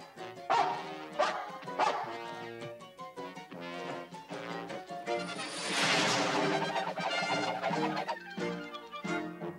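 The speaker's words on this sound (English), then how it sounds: "That's the biggest dog I ever seen." A big dog barks in a Popeye cartoon, with repeated loud barks and yelps over a busy orchestral score that swells in the middle.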